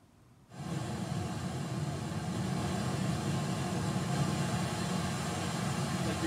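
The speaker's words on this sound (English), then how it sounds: "It sounds like a rush of a waterfall." A steady rushing noise like a waterfall starts abruptly after a brief quiet moment and holds broad and even, loud and continuous with no voice over it.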